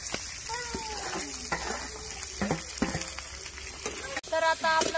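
Stuffed bitter gourd and leftover masala hit hot oil in a kadhai, giving a loud continuous sizzle with sharp crackles and splatters, stirred about, while someone talks over it.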